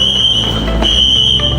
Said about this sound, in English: We pulled the fire alarm